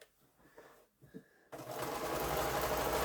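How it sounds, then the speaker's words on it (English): A sewing machine stitching quilt pieces starts up after a moment of quiet handling noises, then runs at a steady fast whir, loud and close, to the end. "I'm going to sew this one on, and then I'll press it"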